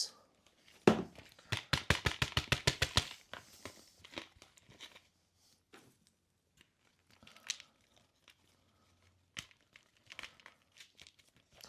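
Potting mix added by hand around a monstera during repotting: a quick run of crisp, rhythmic crinkling scrapes near the start, then sparse soft rustles and crunches with quiet gaps, close and without talk.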